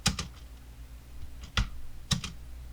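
A computer keyboard has its Home key and spacebar pressed: a few sharp, close key clicks, one near the start and two more around the middle and end, with quiet room hum between.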